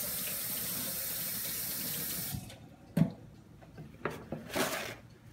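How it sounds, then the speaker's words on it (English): Tap water runs steadily into a kitchen sink as a finger is rinsed, a close, constant hiss that cuts off after a couple of seconds, followed by a few brief knocks and splashes. "let me rinse my finger off"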